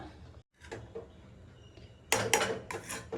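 Lentils cooked with cucumber being stirred in a metal pot, giving a few close scraping and clinking strokes of a spoon against the pot, quiet at first and then a louder burst of rattling stirs near the end.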